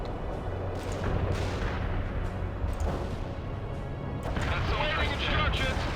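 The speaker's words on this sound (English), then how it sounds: "Heavy shells there dropping on them." Artillery shells exploding across a World in Conflict battlefield, a dense, continuous wall of heavy booms and rumbling blasts with crackling debris, loud and close, with a voice running under the barrage.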